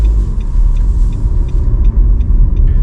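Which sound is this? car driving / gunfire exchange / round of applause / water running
car driving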